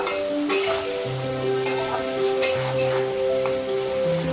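Potato pieces sizzle in hot white oil with turmeric powder and salt, a steady crackling fry with intermittent stirring scrapes and clatters in a home kitchen, close and continuous.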